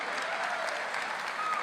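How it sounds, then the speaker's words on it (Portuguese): Brief burst of audience applause at a national party convention, a dense steady clapping from a large crowd heard alone. "Hoje é tua salva de palmas para o Genuíno, que ele está aqui."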